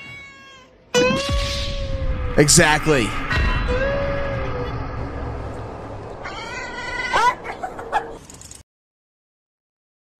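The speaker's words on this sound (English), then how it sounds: "We got cats." Cats meow and caterwaul in a rising, wavering series of cries, several loud drawn-out calls close by, with people briefly talking over them before the sound cuts off abruptly.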